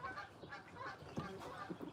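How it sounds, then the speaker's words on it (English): Faint honks of migrating geese flying past outdoors, several soft calls in an irregular sequence, distant and low in level against background noise. "The geese want to be on camera."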